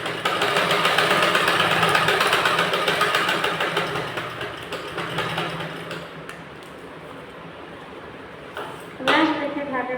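A sewing machine stitching a Madhubala-style blouse runs with a steady motor hum that gradually quietens, ending with a short burst of rattling and a brief voice.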